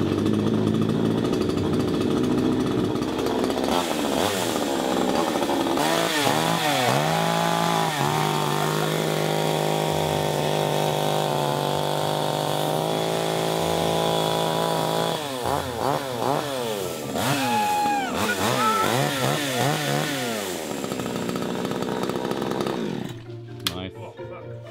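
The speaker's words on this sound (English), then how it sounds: "Big chainsaw, cut right through it." A large chainsaw cuts through pancakes indoors, its engine buzzing loud and steady with rising and falling revs as the blade bites in, running nearly the whole time before cutting off near the end.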